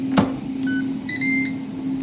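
A Ninja air fryer sounds a short run of electronic beeps when cooking finishes: a brief click, then two or three clear high tones over a steady low kitchen hum, close and moderately loud.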